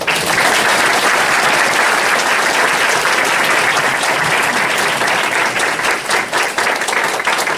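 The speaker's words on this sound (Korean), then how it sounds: "이제 우리 손 교수님 나오셔서 강연하실 때 큰 박수로 한번 부탁드립니다." An audience claps loudly and steadily to welcome a lecturer, dense continuous applause throughout without a break.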